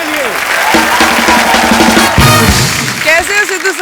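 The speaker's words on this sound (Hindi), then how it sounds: "जोरदार तालियां प्रियंका चोपड़ा के लिए।" Studio audience applause on the set of a comedy talk show, a burst of clapping and crowd noise mixed with loud music and a host's voice over it.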